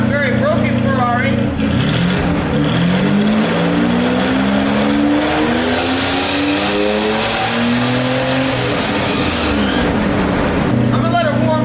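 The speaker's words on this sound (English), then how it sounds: "It sounds kind of like a Ferrari, very broken Ferrari." A homebuilt engine idles and revs with a rough, uneven Ferrari-like note, its pitch climbing and falling across the run, loud and close with a voice talking over it.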